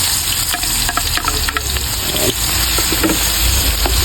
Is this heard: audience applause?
no